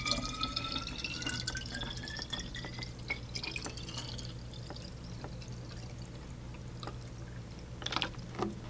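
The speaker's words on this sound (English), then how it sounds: "A nice, smooth, cinematic pour." Water pouring into a bottle, a smooth running stream whose pitch climbs as the vessel fills, with light drips and glassy taps toward the end, close and fairly quiet.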